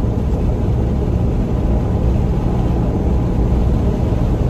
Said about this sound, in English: I can still hear the tire noise myself if I listen for it.